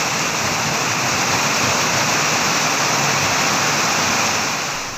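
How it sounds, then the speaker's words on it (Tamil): Heavy rain pours steadily and loudly across Kanyakumari district villages such as Thovalai and Aralvaimozhi, a dense, unbroken hiss with no distinct thunderclap standing out and no voices. "இடியுடன் கூடிய கனமழை பெய்தது"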